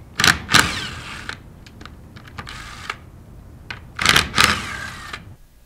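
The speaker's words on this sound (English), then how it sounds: "we're going to use a 3/8 drive impact gun. We're going to start off by removing the discharge manifold" A 3/8-drive impact gun removing the discharge manifold bolts on a Versamatic 1/2-inch bolted plastic pump, heard as two loud pairs of short rattling bursts separated by quieter clicks and handling noises.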